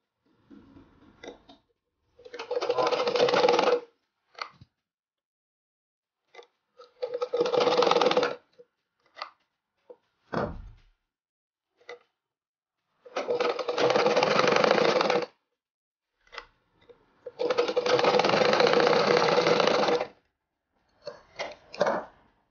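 A sewing machine stitches an umbrella frock in bursts of rapid needle clatter, four longer runs and several short taps separated by silence, close and clear.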